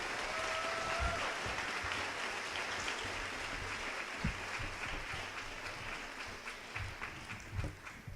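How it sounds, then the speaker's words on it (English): An audience at a high school senior awards ceremony gives students a sustained round of applause, moderately distant and even, with scattered louder claps toward the end. "Please recognize these exceptional students with a round of applause."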